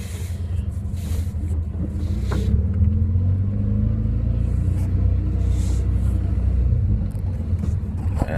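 Car on a test drive after a clutch swap, a steady low engine rumble and road drone from inside the cabin, holding even and moderately loud throughout with no talk.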